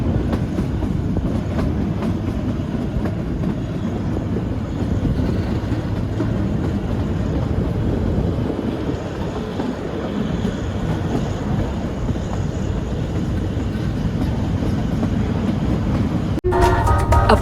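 The Kalka-Shimla narrow-gauge toy train runs along a winding single-track mountain line in winter, a loud continuous rumble of wheels and carriages with rhythmic clickety-clack and wind buffeting the microphone, no talking.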